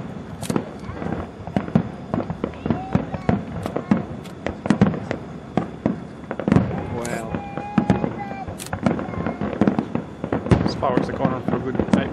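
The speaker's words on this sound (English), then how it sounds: "Fireworks are going on for a good 8 minutes." A grand finale fireworks show at an airshow sounds as dense, continuous volleys of sharp booms and crackling bangs, with whistling rockets between them. The bursts come loud and rapid, and people can be heard reacting.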